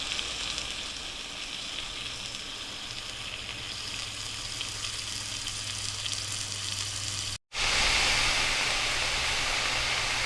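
Hogfish fillets frying in a pan, a steady loud close sizzle and crackle that cuts out for a moment and then returns brighter and hissier.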